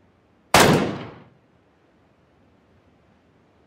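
A single loud gunshot in the video game Battlegrounds (PUBG), sharp and close, with a rough tail that fades over about a second into near silence.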